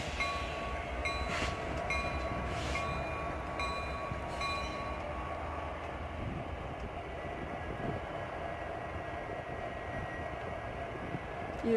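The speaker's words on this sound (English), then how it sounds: "You heard the train horn, and he's revving up his engines." A locomotive idles and revs at the Winnemucca train depot, a low distant rumble with a faint horn tone, fairly quiet and steady throughout.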